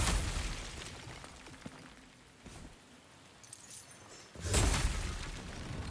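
Clay pots smash in No Rest For The Wicked: a sharp shattering burst opens, a few softer knocks follow, then another loud crashing break near the end over a low background.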